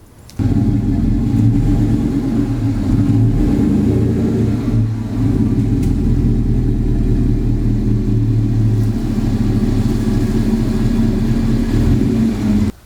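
Chevrolet Silverado pickup truck driven into a garage, a steady low engine rumble with mid-range drone holding constant throughout, loud and close, with no talking.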